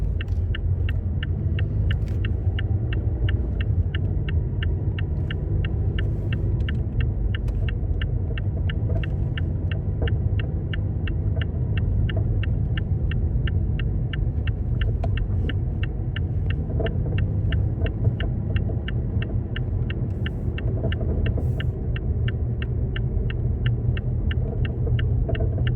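A car pulls onto a road and speeds up on a driving lesson, giving a steady low engine rumble and road hum that carries on evenly under a regular ticking, with no voices.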